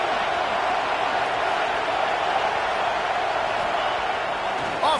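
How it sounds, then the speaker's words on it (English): A packed stadium crowd at a Texas football game roars in a dense, sustained wash of noise that holds steady and swells slightly at the end, with a commentator's voice faintly over it. "This crowd ready to make its presence known."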